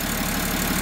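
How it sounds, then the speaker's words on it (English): A BMW M57 3.0 twin-turbo diesel straight-six swapped into a VW LT40 4x4 idles at about 700 RPM, a loud, steady, close diesel clatter and rumble in a brief burst. "it idles at like 700 RPM"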